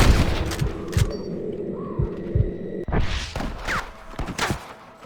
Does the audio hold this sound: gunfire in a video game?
yes